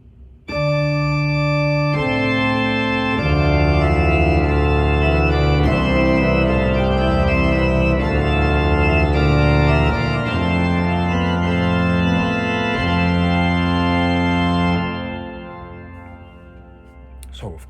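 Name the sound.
pipe organ reed stop played octave lower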